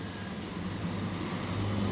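A mixer grinder blending roasted peanuts with water gives a continuous, even motor hum with a rough grinding texture, steady from start to finish with no talk.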